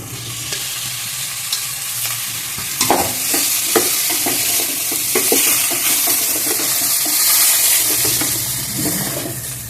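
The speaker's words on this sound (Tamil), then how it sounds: "இந்த கோபி போட்டு நம்ம ஃப்ரை பண்ணலாம்" Cauliflower with chilli powder frying in a pan, a loud steady sizzle with intermittent spatula scrapes and stirring knocks, close and continuous without speech.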